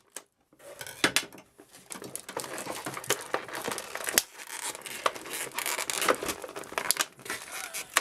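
Plastic tape peeled and torn away from a new artist mannequin figure, giving close, busy crinkling and ripping with sharp snaps, continuing for several seconds.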